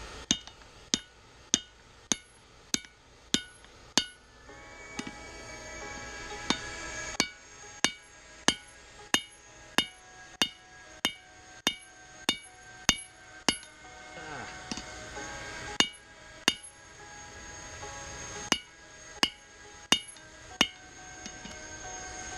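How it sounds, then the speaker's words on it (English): Hammer blows ring out on an anvil as a smith forges hot metal, a steady run of sharp, bright metallic strikes spaced about a half-second apart with brief pauses, close and loud over a faint background hum. "Hit on one side of the anvil is the same as a hit on the other side."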